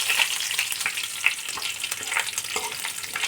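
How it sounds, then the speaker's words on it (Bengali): Panch phoron, dried red chillies and bay leaves frying in oil over low heat, a continuous soft sizzle with scattered pops and light stirring scrapes, close and without speech. "আমি এবার গ্যাসটা একদম কমিয়ে 5 ফোড়ন, শুকনো লঙ্কা আর তেজপাতা"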